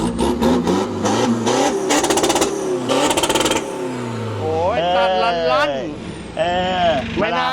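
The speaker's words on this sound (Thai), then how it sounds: "ท่อดังไม่ว่า เบิ้ลตับสลับเบิ้ลไปด้วย" A car engine revs repeatedly with a loud, throaty exhaust, rising and falling in bursts, with a few short pauses between revs.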